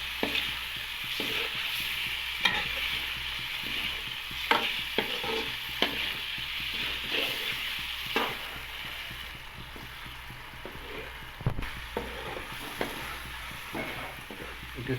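Chicken liver coated in spices being stir-fried in a pan, a steady close sizzle with repeated scraping and knocking of a spatula against the pan at irregular intervals.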